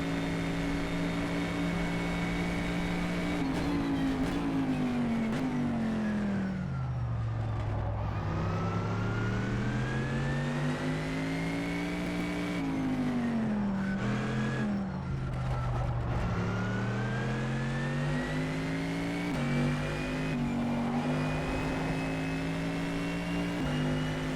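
A video game race car engine, from rFactor 2, drones steadily throughout, its pitch rising and falling as it accelerates and slows, with no talking.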